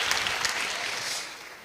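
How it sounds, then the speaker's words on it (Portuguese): Brief burst of audience applause in a church, a dense wash of clapping that fades slightly toward the end. "eu fico vendo vocês aplaudindo e fico rindo"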